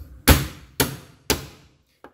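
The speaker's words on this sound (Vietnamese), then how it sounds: "Gừng tươi này thì các bạn sẽ đập dập." Fresh ginger being smashed flat on a board: three loud, heavy thuds evenly spaced about half a second apart, close by, followed by a faint small tap.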